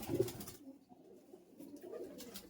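A Matras breed pigeon at a West Bengal pigeon sale gives a short, close, low coo at the start, followed by quieter murmuring and faint background noise.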